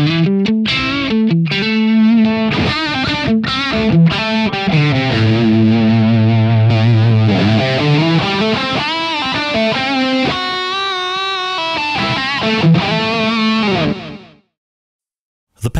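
Electric guitar runs through a Redstuff 1987 distortion pedal, playing a thick, saturated lead line with sustained bends, loud and continuous before cutting to silence at the end.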